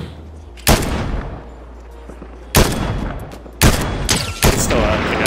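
Gunfire in the Fortnite video game rings out as four loud, sharp bursts spaced across a few seconds, each with a short echoing tail over a low ambient game background.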